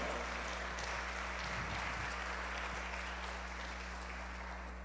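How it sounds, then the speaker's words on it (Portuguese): A church congregation applauds steadily in a large room, a broad wash of clapping that stays at an even, moderate level throughout, with a low hum underneath. "Pode aplaudir o Senhor por essa palavra?"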